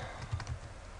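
Typing on a computer keyboard in Oracle SQL Developer gives a few soft, close key taps in quick succession over a quiet room hum.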